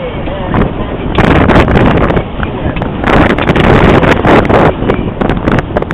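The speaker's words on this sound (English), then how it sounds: "The wind's picked up a little bit." Strong wind rushes and buffets past the microphone aboard a heeling sailboat, a loud, continuous roar that surges in gusts amid splashing water.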